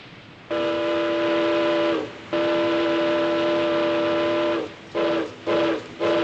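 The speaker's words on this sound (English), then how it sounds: "Sound the whistle." A ship's whistle blares aboard a vessel in a 1960s war drama, sounding as loud steady harmonic blasts: a long blast of about a second and a half, a longer one of over two seconds, then three short bursts in quick succession.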